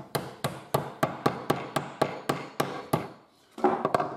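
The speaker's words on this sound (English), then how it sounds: "when we go to try and tap it into the hole, it doesn't help you knock it in" Wooden plugs being hammered into holes, a steady run of about a dozen sharp close knocks at even pace, a brief pause, then a few quicker taps.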